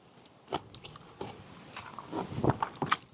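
Someone bites into crispy grilled romaine lettuce, a BBQ side dish, with several close crunchy bites and chewing spread over a few seconds.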